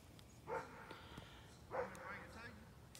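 A muzzled dog gives two short barks about a second apart, close by and moderately loud, with quiet background and some talk around them.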